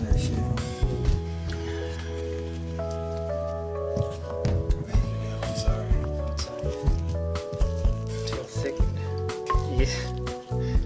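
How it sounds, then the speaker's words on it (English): A thick ham and banana casserole mixture with milk is stirred in a bowl, with wet, squishy sloshing and scraping pulses under people talking throughout. "Let's stir that shit."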